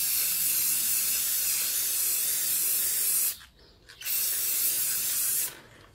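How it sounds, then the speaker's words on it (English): Aerosol can spraying sealer onto a plastic surface, a loud steady hiss that runs for about three seconds, stops briefly, then sprays again for another two seconds before cutting off. "That's our spray."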